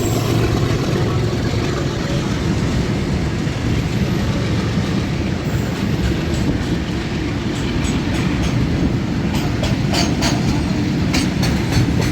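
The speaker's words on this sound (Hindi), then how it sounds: "यहाँ पे अभी हम किसी ट्रेन को तो ओवरटेक कर रहे हैं।" The North East Express overtakes another train on a parallel track, a loud, dense rumble of rolling wheels and rushing air that holds steady, with faint clicking rail joints toward the end.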